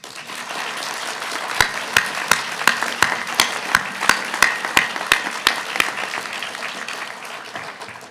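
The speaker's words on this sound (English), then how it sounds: "let us hear your loudest applause for your parents" Warm crowd applause at a Richland School District Two Junior Scholars of South Carolina ceremony, with sharp, regular, rhythmic claps standing out near the mic before fading back into general clapping.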